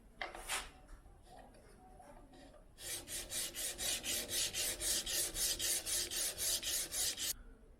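An acoustic guitar bone is sanded flat by hand in a quick, even run of about twenty close rasping back-and-forth strokes, preceded by a few scattered scrapes and soft handling noises.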